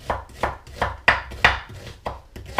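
A knife slicing an onion into thin strips on a cutting board, with about eight steady, evenly spaced close chops in a brisk rhythm.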